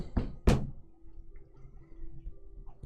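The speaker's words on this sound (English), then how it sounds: "bang on the door." Two heavy knocks on a door during a tabletop role-playing game session, sounded close and loud in quick succession, followed by quiet room tone.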